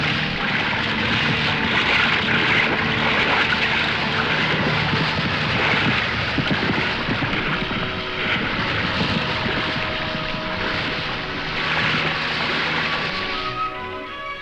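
A helicopter lifts off over lakeside country during a chase, its engine and rotor roaring loud and close throughout, a dense continuous drone that eases slightly toward the end, with no voices.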